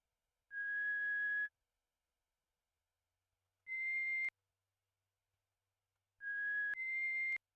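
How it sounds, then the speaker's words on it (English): In a Kirby video game, three short whistled tune phrases of single sustained high notes ring out cleanly, separated by silent gaps, the last phrase rising in two steps, with no one talking. "I'm going to whistle a tune"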